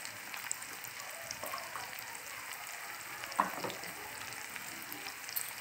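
Tomatoes with salt and half a measure of red chili powder sizzle and fry in a pan while being stirred for street-style veg Maggi, a steady close crackle with a few soft scraping stirs.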